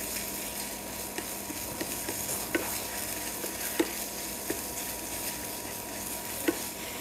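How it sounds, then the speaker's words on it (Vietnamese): Ground pork sizzling and being stirred in a hot pan with fried shallots, a steady frying hiss punctuated by several sharp scraping clicks of the spatula at irregular intervals. "Các bạn cho vào đây là 100g thịt xay mình đã chuẩn bị. Cho vào xong thì mình đảo đều."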